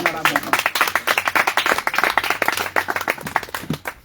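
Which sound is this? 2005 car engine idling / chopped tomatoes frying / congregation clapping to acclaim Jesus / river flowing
congregation clapping to acclaim Jesus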